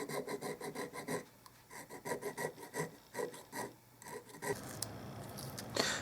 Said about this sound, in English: I cut off and filed all of the excess tubing